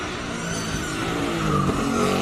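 A Ford Mustang races up a hill climb course at the Speed Classic in Cape Town, its engine a loud, sustained roar that holds steady and builds slightly as the car passes close by.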